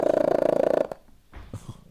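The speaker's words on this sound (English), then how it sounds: "whose cat Merlin has gotten the Guinness Book of World Records for being the loudest purring" A world-record-holding cat gives a loud, steady rhythmic purr close by for almost a second, then it fades into quiet breathy snuffles.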